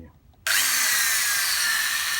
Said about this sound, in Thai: เจาะเข้าไปเลย